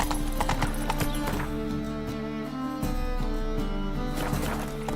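Roach the horse gallops through The Witcher 3, hooves clip-clopping in a steady rhythm, close and loud, with an occasional whinny over a droning game backdrop; no speech.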